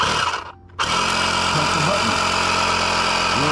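Audew portable tire inflator starting up: a brief dip in noise, then a loud, steady buzzing motor drone with a rattling pump hum, continuous and close, with faint speech underneath.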